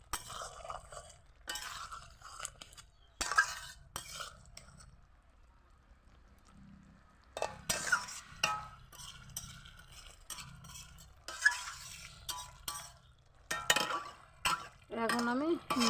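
A spoon stirs eggplant curry with puti fish in a pot, giving short scraping clinks in scattered bursts between stretches of quiet, and a voice talks over parts of it.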